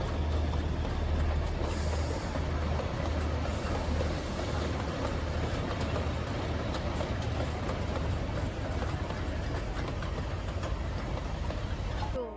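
The Matheran toy train, a narrow-gauge hill railway, rolls past with a continuous loud rumble and rattle that holds steady throughout, a faint high squeal near the start.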